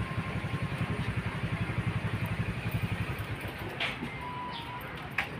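A motorcycle engine runs steadily nearby on Samal Island, a regular throbbing idle that stays even throughout, with faint chirps above it.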